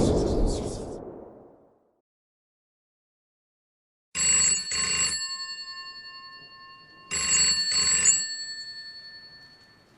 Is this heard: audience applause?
no